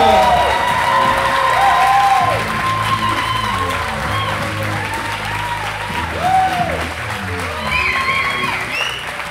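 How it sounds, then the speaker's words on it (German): A poetry slam audience gives a welcoming round of applause with cheers and whoops, loud and continuous throughout, while an announcer's voice carries over the crowd. "begrüßt ihn bitte mit einem frenetischen Applaus"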